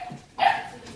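A dog gives one short, sharp bark or yip nearby, heard alone after a brief quiet moment.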